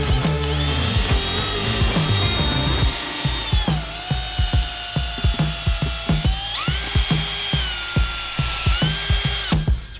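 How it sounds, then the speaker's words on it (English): A power tool is used while cleaning a muddy Dodge truck. A high, whining drill-like buzz shifts in pitch and breaks into a rapid series of rhythmic bursts and pulses, close and loud, with no talking. "Breaking out the power tools."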